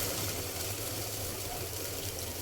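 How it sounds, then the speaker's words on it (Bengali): Water pours into a cooking pot of chicken feet, wings and jackfruit seeds being braised, giving a short, steady gushing splash that carries on throughout. "এই পর্যায়ে আমি পানি দিয়ে দেব।"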